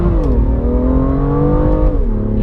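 A 2017 BMW M2 engine revs while driving, a loud close mechanical drone whose pitch climbs, dips, then holds before dropping again near the end.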